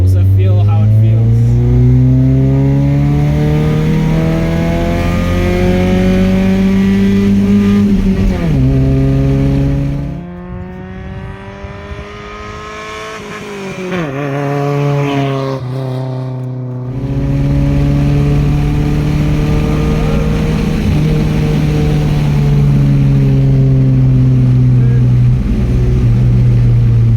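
A loud, modified Nissan 1400 A14 engine revs up through the gears from inside the cabin, rising in pitch, easing off briefly, then pulling hard again.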